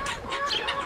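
A rooster's low clucking calls, short and close, repeating a few times in a brief burst with no talking.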